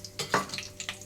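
Mustard seeds hit hot oil for tempering an anchovy fish curry, giving short crackling sizzles and pops, with a light stir or clink of the pan in between.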